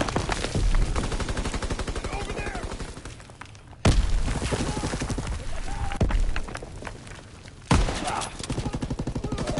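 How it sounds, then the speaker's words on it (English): Rapid automatic gunfire in a video game, dense repeated bursts of shots that stop and restart in several volleys, loud and close over a busy game background. "Damn, he's shooting me."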